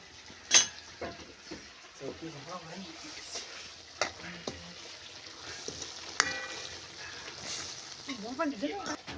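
Ground masala frying in a hot kadhai for a spicy matki (moth bean) bhaji, a moderate sizzle with occasional stirring clatter while voices talk intermittently over it.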